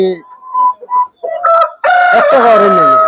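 Tiger breed chickens on a farm give a few short clucks, then a loud, close rooster crow rings out with a long, drawn-out call.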